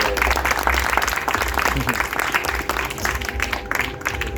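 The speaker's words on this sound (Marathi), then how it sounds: "तुमच्या सगळ्यांसाठी जोरदार टाळ्या" An audience at a Ganesh mandal gathering with members and students breaks into sustained applause, a dense, even wash of clapping lasting the whole stretch, fairly loud, with some voices mixed in.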